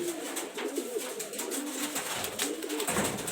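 A high flyer pigeon coos close by in soft, repeated rolling phrases over a light background hiss.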